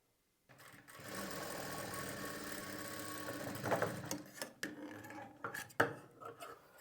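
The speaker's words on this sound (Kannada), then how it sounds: "ಕರೆಕ್ಟಾಗಿ ಜೋಡಿಸ್ಕೊಂಡು ಸ್ಟಿಚ್ ಮಾಡ್ಕೊಳ್ಳಿ." A sewing machine stitches blouse fabric, running steadily at a close, moderate level for a few seconds before breaking into short uneven bursts with clicks and handling knocks.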